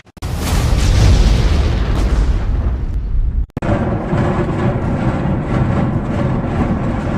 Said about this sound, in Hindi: यूक्रेन के कुछ इलाकों में रूसी सेना इसी तरह रॉकेट से हमला कर रही है। देखिए कैसे 1 मिनट में 1 दर्जन से ज्यादा मिसाइल छूट रही हैं।